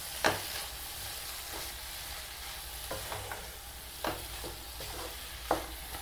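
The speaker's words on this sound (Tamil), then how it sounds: "சேர்த்து நல்லா மிக்ஸ் பண்ணி விடுங்க." A potato poriyal stir-fry with grated coconut is tossed in a pan: sharp spatula scrapes and knocks land every second or so over a low, continuous sizzle, close and fairly quiet, with no talking.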